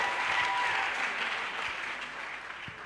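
A church congregation applauds in praise, a dense, loud burst of many hands clapping together that thins slightly toward the end, with no speech over it.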